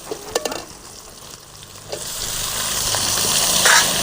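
Tomatoes and onions sizzling and being stirred in a pan for bitter gourd curry, a steady frying hiss that builds louder toward the end with a few sharp scraping stirs near the start.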